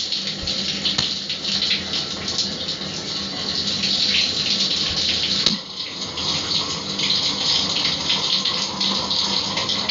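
Shower water runs steadily and loudly, a continuous hissing spray with a brief clunk partway through.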